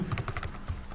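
A username typed on a computer keyboard: a short, close burst of rapid, soft key presses with no pauses.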